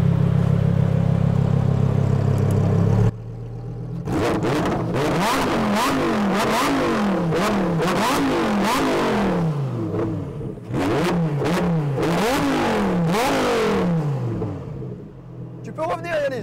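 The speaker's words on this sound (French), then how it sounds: "mets un petit peu des coups de gaz pour les cousins" A Lamborghini Huracan STO engine, loud and close, idles and then rises and falls through repeated revs with a rasping tone, a short dip between bursts and a fade near the end.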